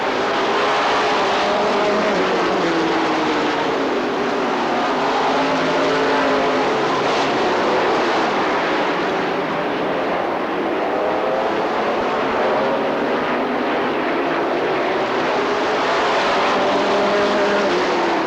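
Race cars roar around the track at a bracket nationals feature, a loud, continuous engine drone with pitch rising and falling as cars pass, dense and unbroken throughout.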